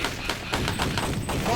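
Rapid gunfire from a retro shooter video game, a dense fusillade of bursts played back loud and continuous, with a voice faintly under the shots.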